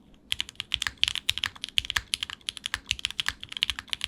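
Fast, steady typing on a Babylon mechanical keyboard with an O-ring mount, producing crisp, clacky keystrokes in quick succession, close to the microphone and alone without any talk.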